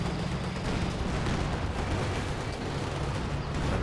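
Dense, continuous gunfire and explosions from a strafing run in the strategy game Company of Heroes 2, a loud, unbroken wash of rumbling blasts with no talk over it.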